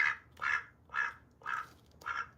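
A duck quacks five times in a steady, evenly spaced rhythm, each call loud, close and nasal, with no other sounds around it.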